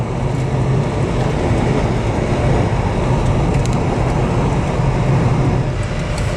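A Norfolk Southern freight train gives off a loud, unbroken rumble and roar that holds steady throughout, with a dense low drone and no pauses or voices.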